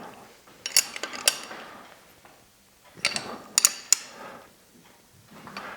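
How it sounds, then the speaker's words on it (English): Clicking ratchet of a Slavens right-angle torque wrench tightening big-bore cylinder studs on a Yamaha YZ300X two-stroke dirt bike engine, two bursts of rapid metallic clicks a few seconds apart, close and fairly quiet. "I'm using this Slavens right arm torque wrench"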